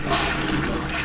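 A toilet flushes in a freshly renovated bathroom, a steady loud rush of water that fills the short moment without a break.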